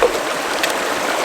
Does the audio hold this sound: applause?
no